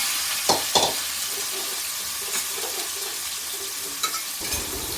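Onions frying in a pan for a village-style hilsha fish curry, a steady soft sizzle with a few louder stirring clatters and scrapes near the start and end, no talking.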